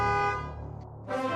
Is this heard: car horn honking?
yes